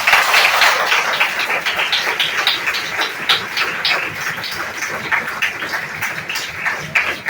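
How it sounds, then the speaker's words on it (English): Seminar audience in an engineering college hall giving a round of applause, a dense patter of many hands clapping at close range that thins slightly toward the end, with no talk over it. "I want you all to thank Dr. TPS with a huge round of applause"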